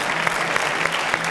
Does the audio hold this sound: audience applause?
yes